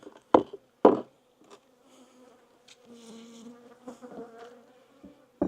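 Honeybees buzzing at an autumn beehive, a faint wavering hum between sharp knocks and clatters of hive parts being handled close by.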